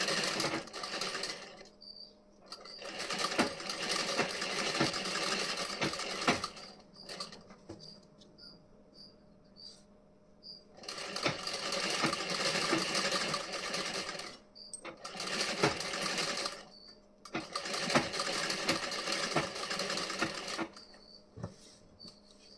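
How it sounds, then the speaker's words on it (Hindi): A sewing machine stitches the front panel of a blouse in several long, fast, steady runs separated by short pauses, close and loud with a mechanical rattle throughout. "तो मैं यहाँ पर आप लोगों को सिलाई लगा के दिखा रही हूँ"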